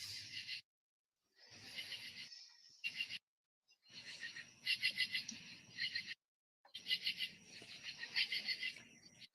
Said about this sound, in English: Frog or cricket.